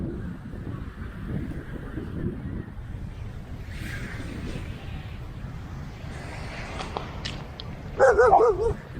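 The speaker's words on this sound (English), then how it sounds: "So many dogs today." Several dogs bark among a loud, rumbling ride through an ancient city on a BMW GS motorcycle, with a sharper burst of barking near the end, partly masked by engine and wind noise.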